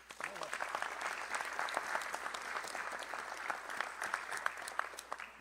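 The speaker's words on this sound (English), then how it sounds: "Give her applause, please" Audience applause for a woman mayor at a civic gathering about school funding, steady dense clapping sustained throughout, moderately distant, with no clear speech over it.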